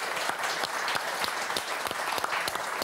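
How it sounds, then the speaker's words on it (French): A studio audience on the Motus game show applauds the contestants. The clapping is sustained and evenly textured, with crisp individual claps standing out near the front. "En tout cas, on vous applaudit"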